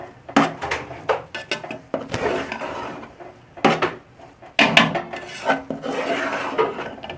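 Khoya is stirred into carrot halwa in a pan, with a spoon scraping and clinking against the metal in irregular strokes and rasping rubs. The stirring is fairly close and no one speaks.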